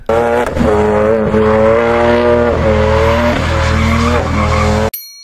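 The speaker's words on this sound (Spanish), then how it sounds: "El drift es el arte de hacer que el carro de una curva deslizándose hacia un lado" Car drifting sideways through a curve, a sustained loud tire squeal with pitch wavering over a droning engine, close and continuous for about five seconds before cutting off abruptly.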